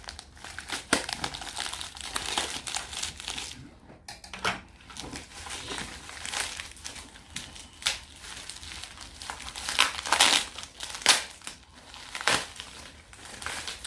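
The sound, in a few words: opening the packaging of comics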